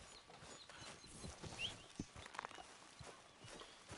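Horse hooves clip-clop softly in Red Dead Redemption 2, a quiet irregular walking patter set among faint ambient game sounds, with no one talking.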